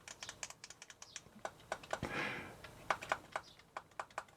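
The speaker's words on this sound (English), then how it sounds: "It's a clicky D-pad. The buttons are membrane." A handheld console's clicky D-pad and membrane buttons are pressed in quick irregular runs while it rests on a table, producing sharp, fairly quiet clicks and taps with a short rustling scrape in the middle.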